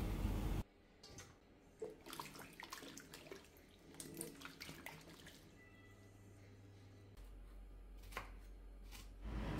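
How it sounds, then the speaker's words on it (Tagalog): Knife strokes through eggplant on a cutting board, with the cut pieces splashed into a bowl of water to keep them from darkening; uneven chopping clicks, soft watery plops and a brief low rumble, close and moderately loud, no talking. "Pagkatapos kong hiwain ang talong ay dinidiretso ko na sa tubig para hindi ito mangitim."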